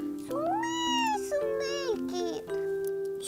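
A cat's meow voiced in a children's story, a few drawn-out rising and falling cries, likely a person imitating the cat, clear and close against a quiet background.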